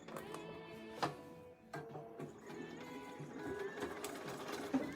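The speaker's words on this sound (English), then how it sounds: "And sew down that side." A sewing machine stitches down quilt binding along one side after a mitered corner, with a steady run of rapid needle strokes broken by short pauses and restarts, close and moderately quiet.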